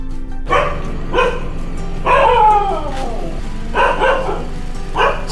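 A dog barks inside a house, a series of loud, close, repeated barks and yelping howls in an irregular rhythm, with one drawn-out whining cry midway and no talk over it.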